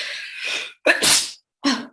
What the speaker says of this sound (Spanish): Perdón el estornudo.